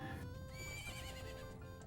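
A horse neighs during the Gorman horse race in a Zelda video game, a loud, clear whinny with a rising, wavering call over a steady, busy game background.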